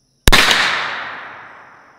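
A single sharp gunshot from a Ruger PC Carbine at an outdoor range, loud and close, with a long fading echo afterward.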